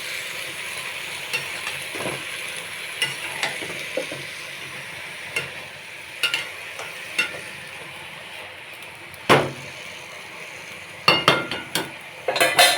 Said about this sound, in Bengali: সব সবজি দেওয়া হয়ে গেছে, একটু নেড়ে নেব।